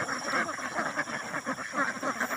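Domestic ducks quacking in a flock, a dense, continuous babble of overlapping nasal calls with no pauses, fairly close and steady in loudness.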